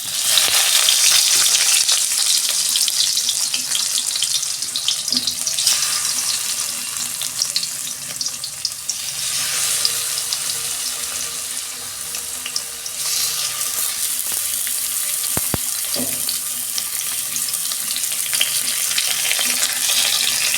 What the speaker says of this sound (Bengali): কড়া বসিয়েছি, আমি তেল দিচ্ছি, চিচিঙেটা ভাজবো।